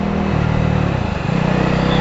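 A Jawa 42 Bobber motorcycle engine revs close by in fourth gear, its low drone shifting pitch as it accelerates hard under strong wind rumble.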